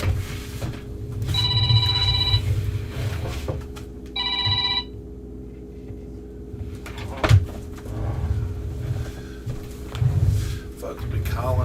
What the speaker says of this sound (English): My phone starts ringing like crazy.